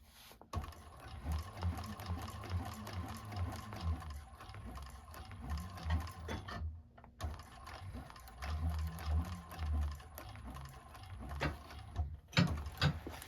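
Sewing machine stitching a handbag with a bigger presser foot, rapid mechanical clatter in bursts with two brief pauses, fairly quiet and close.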